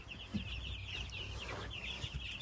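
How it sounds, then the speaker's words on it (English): Mixed egg-laying and meat chicks mingle together, clucking and cheeping softly in a steady, faint background chorus on an off-grid homestead. "The egg laying chicks broke down the divider, so now they're all mingling together."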